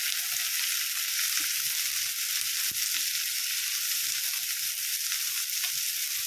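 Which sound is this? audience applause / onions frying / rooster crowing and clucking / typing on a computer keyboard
onions frying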